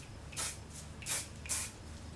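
Three short bursts of Paul Mitchell Hot Off the Press hairspray, sprayed onto hair being styled into beachy waves, each a close, airy hiss in a quiet room.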